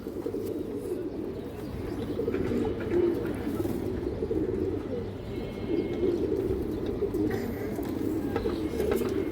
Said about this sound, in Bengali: একটা খয়েরি চিল মাদি কবুতর খুব সুন্দর একটা কবুতর